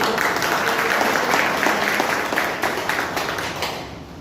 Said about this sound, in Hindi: मैं चाहूँगा जोरदार तालियां